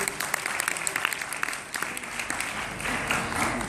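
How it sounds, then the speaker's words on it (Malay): Audience in a meeting hall applauding during an opening speech, a brisk burst of many hands clapping with distinct sharp claps audible in the mix, steady and fairly close throughout. "Berikan tepukan kepada Anda diri sendiri"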